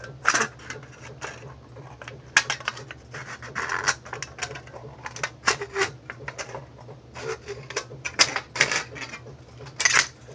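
Aluminium drink can being cut around its circumference to make a DIY camping stove, producing dense metallic snips, scrapes and clicks that come in irregular bursts over a steady low hum, with no talking.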